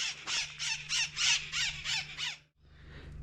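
A parrot squawks loudly and close up on a countryside outing in Ambul, Córdoba, giving a run of about eight rapid, harsh, rhythmic calls, then a short pause and one fainter call, with a steady low hum underneath.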